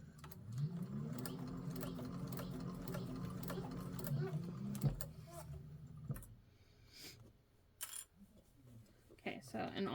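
A sewing machine topstitches a tote bag on its cylinder arm, humming in a steady close run for several seconds before stopping, followed by handling clicks and rustles.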